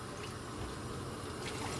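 Water runs steadily from a tap while bitter gourd is rinsed in a kitchen, a continuous close hiss and splash with no talking.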